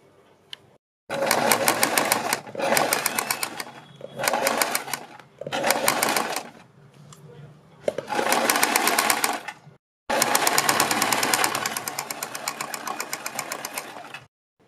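Sewing machine stitching a design onto a kurti neckline, running loud in repeated bursts of one to two seconds, then a longer continuous run near the end, with brief pauses between.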